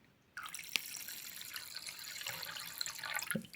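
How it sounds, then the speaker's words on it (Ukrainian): Water is poured into a saucepan, a steady bright, splashy hiss, starting abruptly and running on without a break, close by and fairly quiet. "Беремо воду і туди вливаємо"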